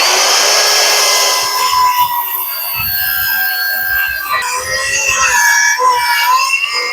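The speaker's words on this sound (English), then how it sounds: "I'm going to cut this bevel on it and then we'll nip it off." A power saw cutting a bevel into a wooden board for a DIY wheelchair ramp, a loud steady whine that shifts in pitch as the blade works through the wood, with scraping rasps underneath.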